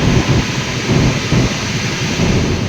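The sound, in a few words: strong typhoon wind and storm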